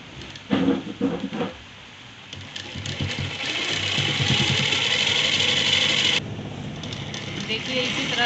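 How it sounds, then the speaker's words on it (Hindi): A sewing machine stitches along marked lines on a kurta collar, a close, steady mechanical whir that builds and runs continuously after a few brief rustling bursts, then drops slightly near the end. "अब उस पर हम सिलाई करेंगे"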